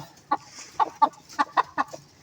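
A hen and rooster cluck inside a chicken coop, giving about seven short, sharp clucks in an uneven rhythm, close and clear against a quiet background.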